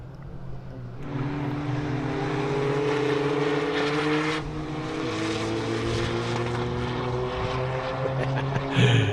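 Race cars in race one of the Gazoo Racing Cup at the 2022 National Extreme Festival, round four, drive past with a loud, continuous engine roar whose pitch rises and falls as they pass by.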